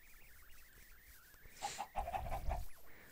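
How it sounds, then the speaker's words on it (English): Minecraft chickens cluck in a quick series of short calls, moderately close, over a faint background hum. "Chickens everywhere."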